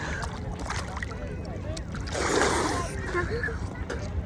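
People plunging into the sea at a beach make a rush of splashing and sloshing water, with voices chattering around it.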